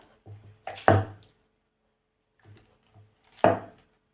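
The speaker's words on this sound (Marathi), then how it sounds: "मी फक्त ह्या चिरा देऊन ठेवत आहे" Knife pressing through a slab of warm sesame chikki in the pan: a few dull wooden thunks and taps in two short bursts with silence between, close and fairly soft.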